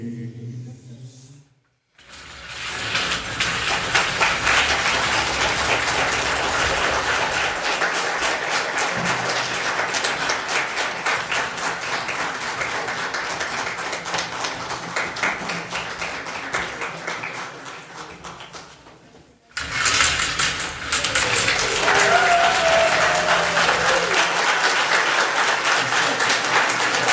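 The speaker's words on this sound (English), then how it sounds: "Can we give a big applause for David who wrote this play?" Sustained audience applause fills a Christmas dinner theater after the play, a dense wash of clapping that breaks off briefly near the end and then resumes just as strongly.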